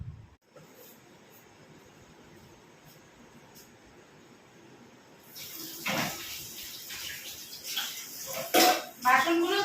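Tap water runs while dishes are washed up in a home kitchen after sandwich making, a quiet steady hiss that turns louder and splashier with clatter near the end, and a voice talks over it.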